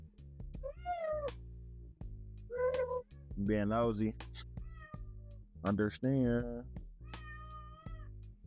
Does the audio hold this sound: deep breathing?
no